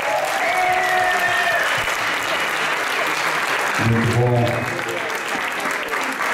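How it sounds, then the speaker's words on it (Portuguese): Crowd applause at a hip hop rap event, sustained loud clapping across the whole stretch while someone speaks briefly over it. "Quero ouvir uma grande salva de palmas para toda a gente."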